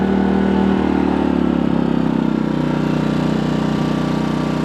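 A portable generator at a campground drones loudly and steadily, its pitch shifting slightly as it throttles up and settles into a charging load; no voices.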